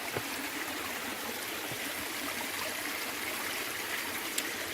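Clear spring water pours out of a rock, a steady broadband rush and trickle that runs unbroken and fairly close, with no voices over it.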